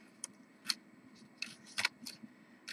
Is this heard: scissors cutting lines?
yes